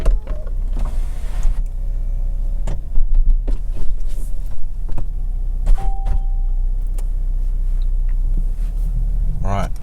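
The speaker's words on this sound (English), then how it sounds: "Let's put the top up and see how it fares with the roof up." Motorised soft top of a 2020 Mercedes-Benz E-Class AMG Line diesel Cabriolet being raised, a steady electric whir and mechanical rumble with clunks and clicks, heard close from inside the car.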